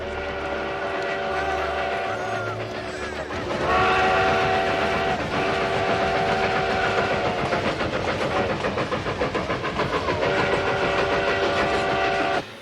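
A steam train runs steadily throughout, with loud rolling rumble, mechanical clatter and sustained whistle-like tones, as troops load horses at a rail siding in the late 1890s.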